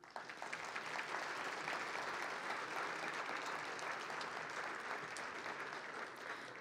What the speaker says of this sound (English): You may also applaud these.